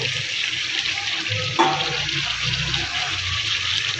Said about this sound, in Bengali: এবার এর মধ্যে আমরা সামান্য আরেকটু জল দিয়ে দেবো মাংসটা সিদ্ধ হওয়ার জন্য